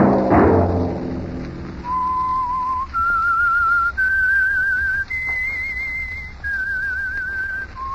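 A clear whistled tune of sustained, wavering notes stepping up and down in pitch, sounding alone after a brief low rumble at the start.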